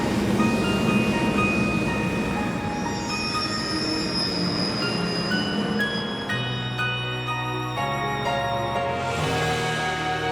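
A train in the Trails of Cold Steel II video game rolls along its rails with loud, sustained wheel squeal and metallic ringing tones that shift and drop partway through, continuous and close with no voices.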